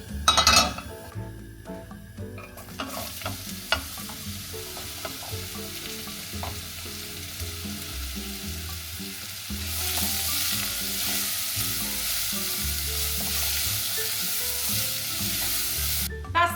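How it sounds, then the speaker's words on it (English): Onion and garlic sizzle in a teaspoon of ghee on a hob, a steady frying hiss with occasional clinks and stirring scrapes, growing louder and brighter partway through, with no talking. "That's the onion and garlic cooking down on the hob."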